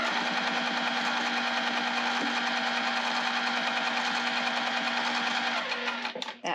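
A sewing machine stitching a fabric boombox basket: a steady, fast mechanical whir with a constant hum, running close and loud for several seconds before briefly stuttering and stopping at the end.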